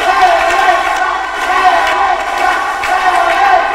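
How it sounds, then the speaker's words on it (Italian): Loud, continuous roar of a crowd of women's Serie A1 handball supporters chanting in an indoor arena during the Dossobuono versus Leonessa Brescia match, a dense sustained wall of voices. "meraviglioso essere qua in mezzo e sentire quello che dovrebbe essere sempre il tifo delle squadre"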